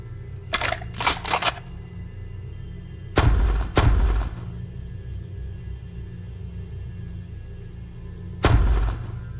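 Gunshots in the horror video game No Players Online: a few sharp, booming game shots come in two quick clusters and then one alone, loud over a low background hum.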